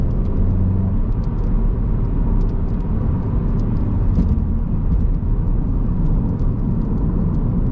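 A Volkswagen Golf GTI Mk7.5 with an APR Stage 1 tune drives downhill through corners, its engine a steady, loud, close interior rumble with a road-noise bed and no pauses.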